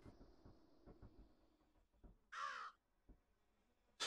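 A crow caws in the horror game Root Of Evil: The Tailor, one short harsh call at mid-clip and another starting at the very end, over a faint low ambient background with soft thuds.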